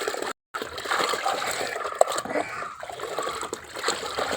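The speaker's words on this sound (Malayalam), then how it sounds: "ഇനി നമുക്കിത് ഒരു 1/2 ലിറ്റർ വെള്ളത്തിലോട്ട് ഒഴിക്കാവേ." Soaked fertilizer powder poured into half a litre of water makes a continuous close trickling splash after a brief dropout near the start.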